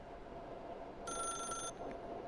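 In the video game The Stanley Parable, a telephone gives one bright, electronic ring lasting over half a second, clear and close above a low ambient hum.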